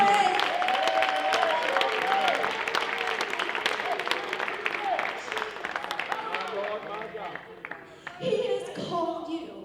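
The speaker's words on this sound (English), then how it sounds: "Can we give God a hand clap of praise?" Church congregation clapping hands in praise, a dense wash of applause mixed with a voice speaking over it, fading toward the end.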